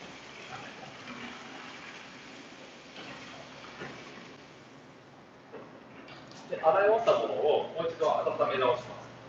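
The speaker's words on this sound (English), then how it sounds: "So noodles are cooked, and I'm washing it." Cooked ramen noodles are rinsed under running water from a ramen machine setup, a soft steady flow that swells into a louder splashing gush near the end, with a voice talking over it.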